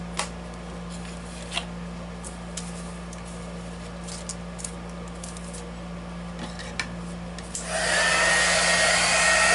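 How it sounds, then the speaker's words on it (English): A Milwaukee heat tool heats clear embossing powder, holding a steady, close airy hum with a low motor tone throughout, then a sudden rise into a louder, brighter rush of blowing air near the end. "the Hero Arts, the Milwaukee heat tool"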